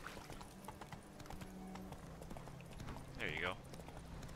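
Horse hooves clip-clop in The Witcher 3: Wild Hunt, a steady run of light hoof beats under a voice, with a brief whinny near the end.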